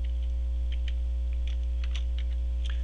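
Light keyboard clicks from typing code on a computer, a sparse, irregular patter of soft keystrokes over a steady electrical hum.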